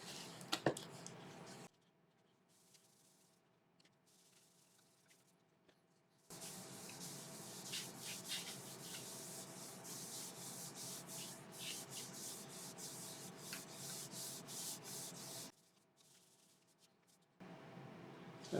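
Sanding sealer rubbed onto a spinning elm bowl on a wood lathe: soft, hissing friction strokes in long bursts separated by quiet pauses, close and faint, with no talking.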